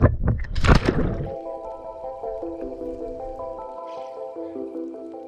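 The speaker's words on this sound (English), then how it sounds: "Cannonball!" A person does a cannonball jump into a landlocked seawater jellyfish lake, producing a short, loud, close splash right at the start that gives way to gentle music.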